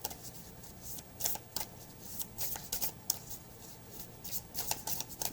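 A deck of Star Temple oracle cards is shuffled by hand, with repeated crisp riffling bursts in an uneven rhythm, close and quiet with no talk.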